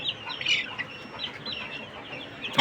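Chickens and newly brought Light Brahma chicks in a cage give soft clucks and high peeping chirps close by, scattered and overlapping through the brief moment.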